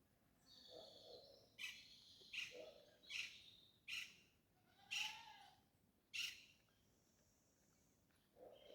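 Birds chirp outdoors in short bright bursts, roughly one per second, against a quiet background with faint insect hum.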